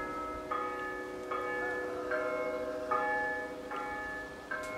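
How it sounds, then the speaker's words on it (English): Bells of a Catholic church ring near a cemetery in Bukovina, with clear repeated strikes at a steady, unhurried pace. They carry at moderate distance over a quiet background. "that's the bells from the Catholic Church"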